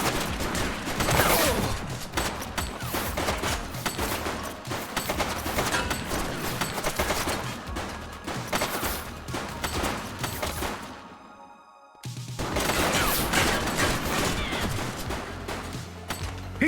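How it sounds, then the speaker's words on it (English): Sustained bursts of automatic gunfire in the police video game The Precinct, loud and dense rapid volleys that cut off briefly near the end and then resume, with no talking. "He's shooting!"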